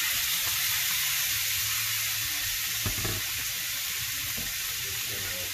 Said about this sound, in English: we got our oil all heated up in our pan. You want that nice and hot for this one. We're gonna throw our shrimp in there.